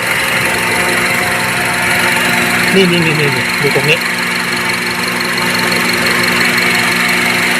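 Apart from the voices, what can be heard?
car engine running at idle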